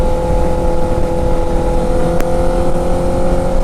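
A 2008 Honda CBR 1000RR motorcycle pulls in sixth gear on a highway, its engine a steady close drone buried in heavy wind rush, with no talk.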